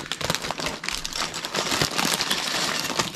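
A plastic bag of Lego parts being opened and handled, giving a close, continuous crinkling and rustling with scattered small crackles and clicks throughout.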